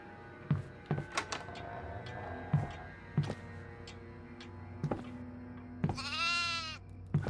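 A goat bleats once, loud and wavering, near the end of a quiet horror-game scene in Devour. Before the bleat come several soft footsteps and thuds.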